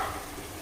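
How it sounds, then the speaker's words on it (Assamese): Grated coconut and sugar fry in a pan for coconut laddu, giving a soft, steady sizzling hiss, close and fairly quiet. "নাৰিকল আৰু চেনিখিনি ভাজি আছে"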